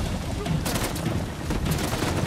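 Rapid bursts of gunfire in the video game Uncharted: The Lost Legacy crackle continuously, dense and overlapping like automatic weapons in a firefight, loud and unbroken throughout.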